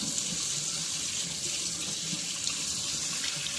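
Warm water runs steadily from a tap into a sink, a continuous broadband splashing rush that stays close and even throughout with no voices.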